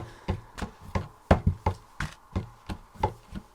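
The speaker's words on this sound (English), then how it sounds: "The deep, booming sound coming from the other side of the door." A deep, booming drum sounds from behind a door, muffled and thudding in a steady rhythm of about a dozen beats, alone with no voices.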